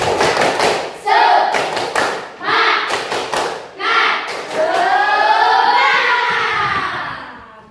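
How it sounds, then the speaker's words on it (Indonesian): Schoolchildren in a classroom do a 'tepuk semangat' clap chant, with bursts of rhythmic, close, thudding claps alternating with their chanted voices, then a longer sung stretch. "Tepuk semangat."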